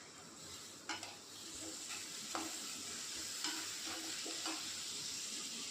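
Cabbage rice masala with turmeric and a small tomato fries in a pan, giving a steady close sizzle with a few scraping stirs spread through it. No one speaks.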